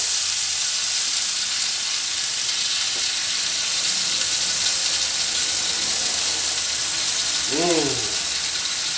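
Miso-glazed scallops sear sugar side down in a hot pan, giving a loud, steady, close sizzle that lasts throughout, with a brief squeaky scrape near the end and no voices.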